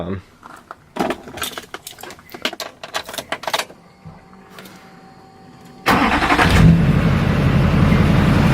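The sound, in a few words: truck engine starting and revving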